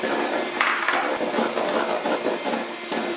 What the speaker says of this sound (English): So I'm going to get the whisk going again.